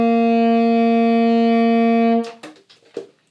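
Tenor saxophone holds a single sustained C, steady and loud with rich harmonics, ending abruptly around two seconds in before brief faint noises.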